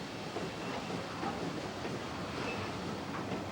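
A steam-hauled train running on a heritage railway line, a soft distant rumble of wheels and steady rolling noise, faint and continuous without any voices.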